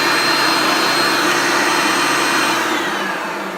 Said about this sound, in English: the test of this Hoover Junior from the year 2000, this Millennium vacuum